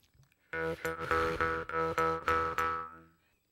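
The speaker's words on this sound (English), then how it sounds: "Now that's not very loud, so you breathe in and out to make it louder." Buzzy jaw harp twangs pulse rhythmically, louder and breathier, with a whooshing rasp as air moves in and out between strokes.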